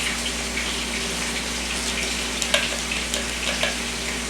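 A pot of Cajun chicken alfredo bubbles with a constant frying hiss over a low hum while a spoon scrapes and taps against the pot a few times, close and fairly loud, without speech.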